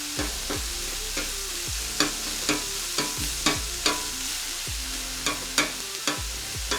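Spicy country-style breakfast sausage fries on a Vevor tabletop gas griddle with one side lit, a loud close sizzle broken by regular scraping strokes of a spatula chopping it up, with no talking.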